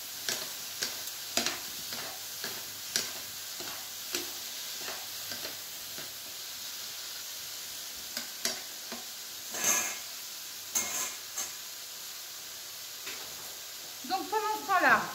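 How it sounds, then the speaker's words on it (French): Fruit cooking with island sugar in a pan on the stove: a soft, steady sizzle under repeated scraping stir strokes and light clicks of a utensil, with a brief wetter bubbling burst near the end. "Alors, nos fruits sont en train de cuire, donc avec le sucre des îles."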